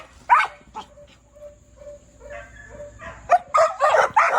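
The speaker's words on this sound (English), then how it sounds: "I'm sorry for all the barking" Dogs bark at a fence in bursts of sharp barks and yips, some near and loud, with quieter gaps and faint whimpering between them.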